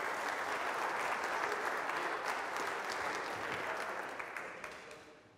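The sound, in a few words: audience applause at a keynote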